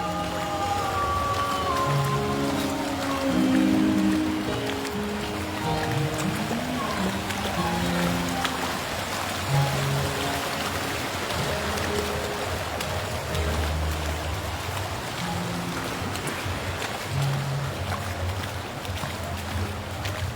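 Floodwater half a metre deep flowing steadily across a road in Panei Tongah, a continuous wash of running water with splashing throughout, fairly close, with no talk.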